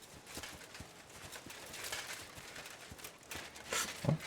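Horse hooves clip-clop at a walking pace in the medieval video game Kingdom Come 2, a faint, evenly spaced run of soft hoofbeats. A louder thump comes near the end.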